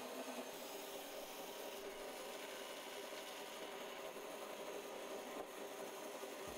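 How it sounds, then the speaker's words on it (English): Old bandsaw resawing wood freehand along a drawn line, a continuous, even rasping hiss of the blade through timber, steady and unbroken from start to finish. "Now I can get it cut on the old saw."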